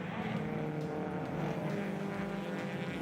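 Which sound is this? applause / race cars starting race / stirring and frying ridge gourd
race cars starting race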